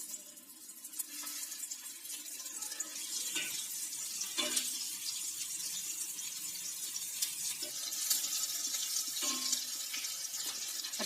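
Soya bean kebabs sizzle in hot oil, a steady bubbling hiss that fills the whole stretch, with occasional louder pops and crackles; no one speaks.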